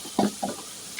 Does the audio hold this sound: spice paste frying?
yes